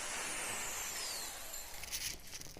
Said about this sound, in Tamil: ட்ரில் மிஷினில் ஃபஸ்ட்டு போட்டாச்சு